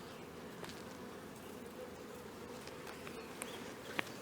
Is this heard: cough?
no